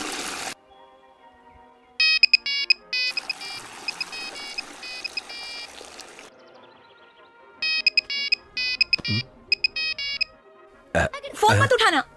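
A mobile phone ringtone rings in repeated bursts at a Hindi-dubbed Tamil film scene, loud and electronic, with pauses between phrases and people talking around it.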